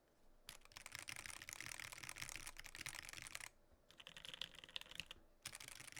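Steady clacking keystrokes from an Iron 165 SE mechanical keyboard fitted with NK Yellow Silk linear switches, fast continuous typing in bursts with two short pauses, close and moderately quiet with no talk.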